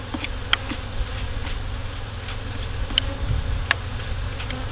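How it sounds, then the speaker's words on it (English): Honey bees buzzing on top of a hive during a mid-July inspection: a continuous close drone of many wings, with a few sharp ticks and knocks, and no talking. "I'm just going to get rid of these bees on the top."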